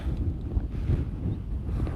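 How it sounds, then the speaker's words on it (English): Heavy wind buffeting the microphone in rumbling low gusts, loud and continuous for a brief moment. "Wow, it's really windy right here."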